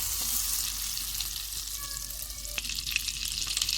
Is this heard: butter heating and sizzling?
yes